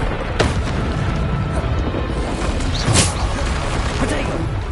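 Spell impacts in Hogwarts Legacy combat, a rapid series of booming bursts over a constant rumbling background, with sharper cracks standing out near the start and middle.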